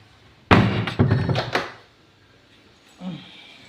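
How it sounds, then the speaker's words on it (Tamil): A door being shut in a home kitchen during heavy rain: a loud close thump followed by two or three rattling knocks, then a fainter soft bump a moment later, with no talk. "கதவை அடைத்து விடுவோம்"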